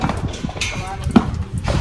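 Hoof clip-clop of horses walking, irregular steps heard faintly beneath near, excited voices chatting throughout.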